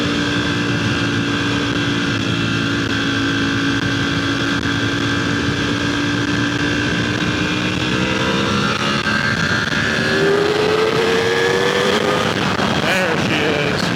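A motorcycle engine runs continuously and loudly nearby, idling and then shifting pitch as it revs and moves off, with wind buffeting the microphone and no talk over it.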